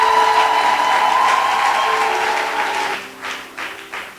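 A church congregation applauds its pastor with a dense burst of clapping that runs for several seconds, then thins into a few scattered claps as a sustained organ or keyboard tone fades underneath.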